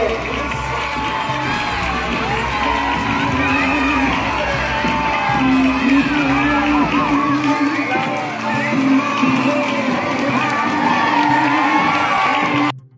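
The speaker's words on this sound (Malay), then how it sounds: "mari kita berikan tepukan paling gemuruh kepada para jemputan dan guru-guru kita" Crowd of schoolchildren and guests cheering and shouting at a Teachers' Day celebration in a Johor school hall, a loud sustained roar with whoops and voices for about twelve seconds before cutting off.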